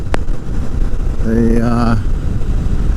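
A 2020 Kawasaki Vulcan S engine struggling at low revs around 2,000 to 3,000 rpm in second gear or higher, a low rumbling drone with a brief rising tonal whine in the middle.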